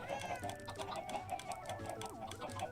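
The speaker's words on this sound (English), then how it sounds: "I would love the mod that could just mute these chickens because it's really bad standing here" Several chickens in the Minecraft video game cluck over and over in quick, overlapping bursts, close and fairly busy, against a low background hum.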